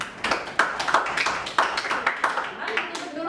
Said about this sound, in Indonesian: beri tepuk tangan untuk kelompok B